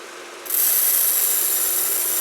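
Air bursts from a pool filter's release valve with a sudden hiss that holds as a loud, steady rush of escaping air.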